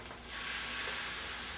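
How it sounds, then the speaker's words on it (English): Chicken placed into a hot pan that has been heating for about fifteen minutes, bursting into a loud, steady sizzle that swells up after a quiet start and holds. "Put my chicken in. And it's going to sizzle again"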